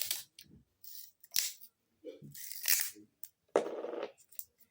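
Adhesive tape is ripped from a roll in several quick, crackly bursts, close by, with short pauses between pulls.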